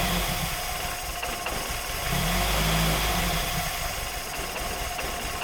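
Austin Healey Sprite engine idling after its points were cleaned, a close, steady mechanical rumble with a brief rise in revs midway before settling back, running alone without talk.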